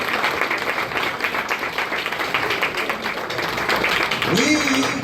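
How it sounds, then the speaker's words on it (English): An audience claps at a stage hypnosis show, a steady, busy patter of many hands that runs throughout, with faint voices and a brief sung or spoken tone near the end. "Give them all a lovely round of applause."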